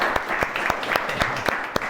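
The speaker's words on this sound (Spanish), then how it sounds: "¡Bravo! Un aplauso a Diana, que está aquí." Studio audience applause for a tech show's 200th episode, steady clapping with sharp individual claps standing out, continuous through the brief moment.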